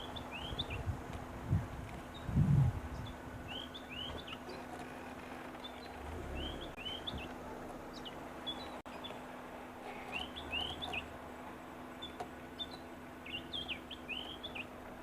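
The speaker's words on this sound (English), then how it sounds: "It's a white-browed scrub robin." Short chirping calls of a white-browed scrub robin repeat at intervals over a steady outdoor hum, fairly faint and at a middle distance, with a soft thump near the start.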